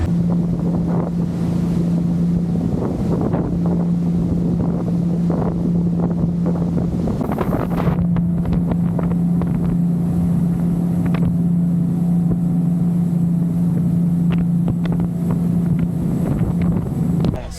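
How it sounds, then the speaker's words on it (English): A ferry engine drones loudly and steadily up close at the stern near the exhaust, its low hum constant under gusts of wind and rushing water. "on the back of the boat where the engine exhaust is"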